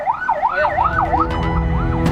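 Ambulance siren wailing steadily as the vehicle sits stuck in a long traffic jam on a road leading to Tanjung Priok port, a loud rising-and-falling electronic tone over road rumble.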